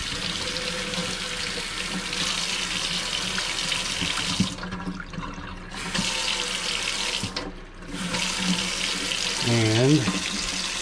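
Water gushes steadily from a newly installed kitchen faucet into a sink, briefly shutting off twice and resuming, with faint clatter near the end.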